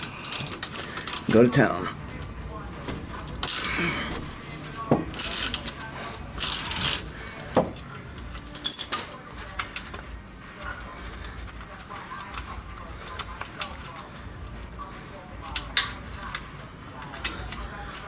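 Ratchet with a 13mm socket working a sway bar end link bolt on a BMW E39, sounding as several short bursts of rapid clicking, close and fairly loud, with someone talking briefly and quiet gaps of metallic tinkering between.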